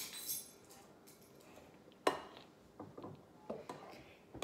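A spatula scrapes pink banana pudding cake batter from the sides of a mixing bowl, giving several short, close scraping and clinking strokes at an uneven pace, with a sharp clink near the middle.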